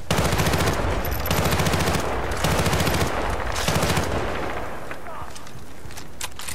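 Gunfire in the video game Battlefield: Bad Company 2: dense bursts of rapid automatic fire in several rounds, loud and close, easing into scattered distant shots, with a voice speaking over it.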